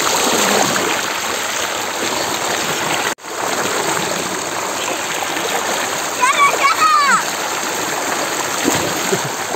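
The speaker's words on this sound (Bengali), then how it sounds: "এই যে ডুব শুরু করে দিয়েছে জুমন, এই যে পিয়াস নামতেছে।" Children splash and dive in a small polythene-lined pool in a village, making continuous watery churning and slaps close by, with voices calling over the water and a brief cut partway through.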